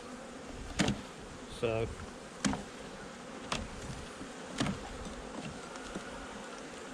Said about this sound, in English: there is a cluster of bees.